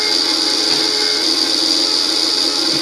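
Small motor spun up to about 4,000 RPM on a speed-sensor test bench, giving a steady, loud high-pitched whine with a constant tone throughout and no talking.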